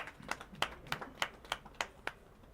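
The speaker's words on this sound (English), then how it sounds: "You can clap for them." Faint, sparse clapping from a seminar audience on taxes in East Africa, about eight slow, evenly spaced claps heard in isolation.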